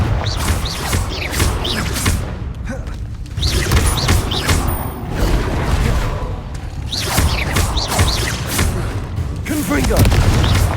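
Confringo blasting spell explosions from the Hogwarts Legacy video game, repeated booming blasts and crashing debris in steady succession, loud and close, with a voice speaking over parts of the din.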